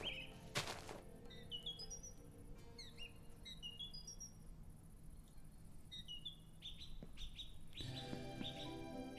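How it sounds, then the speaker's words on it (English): Bird chirping ambience from a modded Minecraft world: several short, high tweets and whistled calls scattered across the clip over a steady quiet background hum, with a brief thump near the start and a denser burst of calls at the end. "My game does have bird noises"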